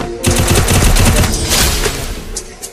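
Rapid automatic gunfire rattles in a shooting video game, a loud close burst of tightly spaced shots lasting about a second and a half, then a fading tail with a couple of faint clicks.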